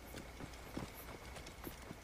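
Horse hooves clip-clop steadily in the game Assassin's Creed Origins, with a quiet, even trotting rhythm and a few sharper hoof strikes over a soft background.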